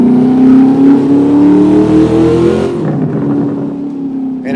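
A Chevrolet Corvette ZR-1 engine revs loudly and close by, a sustained rising roar that cuts off abruptly partway through, leaving a lower idling rumble.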